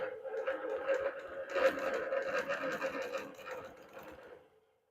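A longarm quilting machine runs steadily while stitching ruler work on a custom quilt, its motor hum and rapid needle strokes continuous and close for most of the span before winding down and falling quiet near the end.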